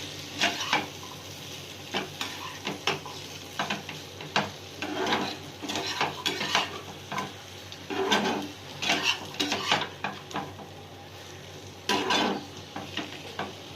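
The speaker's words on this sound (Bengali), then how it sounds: "দিয়ে দেবো মশলার সঙ্গে ভালো করে নেড়ে নেবো।" Egg, potato and green chilli stirred with masala in a pan, a spoon scraping and clinking against the metal in uneven bursts over a steady low sizzle, close and fairly loud, with no talking.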